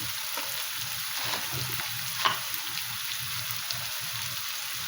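Chicken frying in a pan with turmeric, salt, dried chili and ginger, giving a steady close sizzle with soft stirring scrapes and one brief sharper clink near the middle; no voices.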